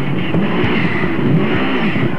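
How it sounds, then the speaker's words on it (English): Group N rally car engine roaring at full throttle through a forest stage during the 1996 Australian Rally Championship, a loud continuous drone with shifting pitch as it races past. "Michael Guest, absolutely waking the forest in his Group N car"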